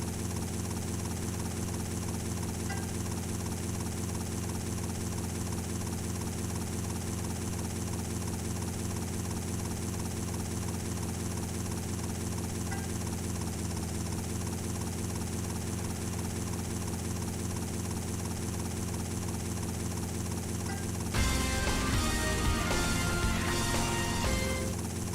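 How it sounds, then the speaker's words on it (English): A helicopter in GTA Vice City Stories drones with a steady, unbroken rotor and engine hum. It stays loud and constant throughout, and a rougher burst of game noise joins near the end. "now it's a helicopter"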